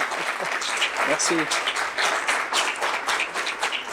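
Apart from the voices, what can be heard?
applause for an actor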